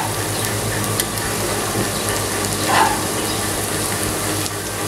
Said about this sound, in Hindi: पोहे को हमने डाल दिया है और उसको अच्छे से मिक्स कर देते हैं